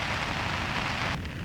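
Heavy morning rain falls on a tent during a group motorcycle camping trip, a dense steady hiss close overhead that drops slightly near the end.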